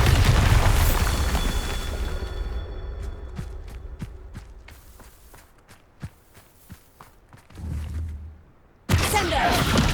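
A Bombarda blast spell from Hogwarts Legacy bursts loudly at the start, then a string of sharp cracks and pops trails off, with a low rumble and a second heavy blast near the end.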